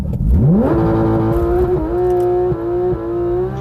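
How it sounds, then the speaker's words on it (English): A C8 Corvette or Porsche GT3 RS sports car launching on a quarter-mile run, its engine note sweeping up sharply from low rumble into a loud, sustained high rev with brief shift dips, close and dominant. "We're gonna throw in launch control, just press the brake all the way down, and then gas all the way down"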